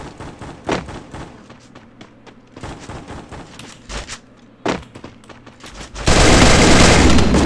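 Gunfire from the video game Garena Free Fire: scattered loud shots and thumps, then a sustained dense burst of automatic fire near the end, close and loud.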